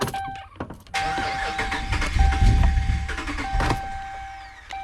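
A 2010–2012 Ram 1500 with a failed fuel pump cranks repeatedly without catching, the starter churning in sustained bursts with a steady whine running over it.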